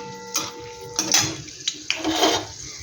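Whole garam masala, bay leaves and dry red chillies are stirred in a hot pan for prawn khichuri, with light metallic clinks and scrapes of the spoon against the pan.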